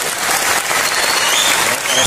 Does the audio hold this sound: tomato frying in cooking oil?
no